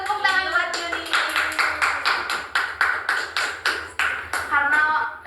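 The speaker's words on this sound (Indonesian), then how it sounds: "Tepuk tangan buat Juni." A classroom of students claps for a classmate in a steady, rhythmic pattern of sharp bursts, with young voices mixed in at the start and end.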